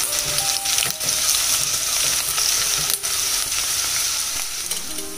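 Onions frying toward brown in a pan with a little mint and coriander hiss steadily up close, with a few sharp clicks and scrapes of stirring on top.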